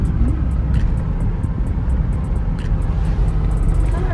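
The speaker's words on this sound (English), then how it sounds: "What is that, a Porsche?" A Porsche or Lamborghini sports car goes by, heard as a steady, fairly loud engine and road rumble with a low drone throughout and no clear rise or fall.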